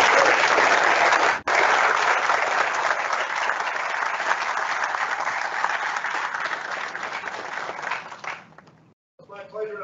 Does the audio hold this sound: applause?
yes